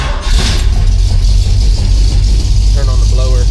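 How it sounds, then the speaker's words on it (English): A Jeep CJ engine, 1977 to 1986 era, runs loud and close at a steady, rumbling idle after a brief start, with faint tones near the end. "So we'll fire it up."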